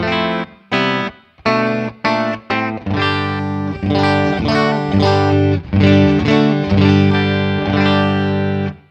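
Clean electric guitar chords ring out through a Fender Hot Rod Deluxe tube amp, starting with a few short choppy stabs and then settling into sustained, overlapping strummed chords.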